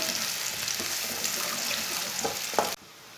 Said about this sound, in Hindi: प्याज डालेंगे। प्याज को हल्का सा ब्राउन कर लेंगे।